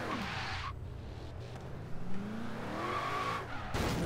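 A car in Forza Horizon 3 brakes hard, tires skidding and squealing over a steady engine drone, the screech rising briefly near the end, no voices.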